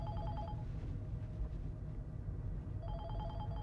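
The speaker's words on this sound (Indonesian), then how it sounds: "Nah dia telepon gue nih," An office telephone bell rings in two bursts of repeated electronic trills, a pause between them, heard close over a steady low background hum.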